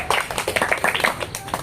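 A group of students in an agricultural college classroom claps hands briefly in a loose, uneven burst of close claps, with a few voices mixed in.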